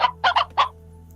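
Hens clucking in the video game Slime Rancher: three or four quick, close clucks in an uneven burst, then a faint steady hum.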